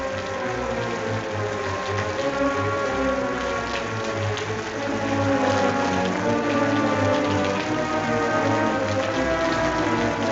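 Heavy rain falls as a radio drama sound effect, a dense steady hiss of droplets over a low rumbling undertone, continuous and fairly loud without pause or speech.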